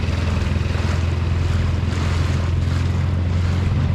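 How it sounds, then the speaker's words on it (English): A dinghy with its outboard motor mounted midship runs along the Rio Dulce river, giving a loud, continuous low engine drone with rushing water and wind buffeting the microphone throughout. "This is how I typically drive the dinghy."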